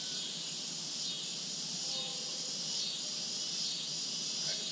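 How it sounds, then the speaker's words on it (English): Crickets chirp in a steady, faint outdoor chorus during a 2017 US solar eclipse, a continuous high trill with no talking. "the crickets are slowly fading away"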